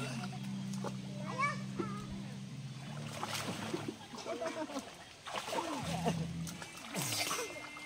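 Water splashing as someone swims in a river, irregular close splashes and sloshing under voices talking throughout.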